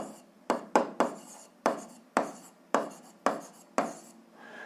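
Pen strokes as an equation is written by hand for a grade 7 algebra exercise, about eight distinct scratchy strokes at a steady pace, close and fairly quiet, with no talking.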